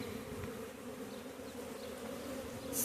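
Bees hum in a hive built inside an underground utility box, a dense, steady buzzing swarm heard close and continuous with no talking.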